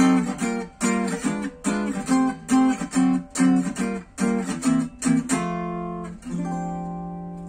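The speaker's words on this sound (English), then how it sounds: "I'm muting strings as I'm playing, so you're not basically holding chords." Short, muted downstroke jazz guitar chords in a bebop style, struck in a clipped staccato rhythm of about a dozen chopped hits, ending on a longer ringing chord; close and clear with no talking.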